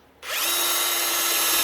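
A Ryobi PSBRH01 5/8-inch SDS hammer drill in regular drilling mode spins up abruptly and runs at a loud, steady whine close by, with a sustained motor tone and no pause.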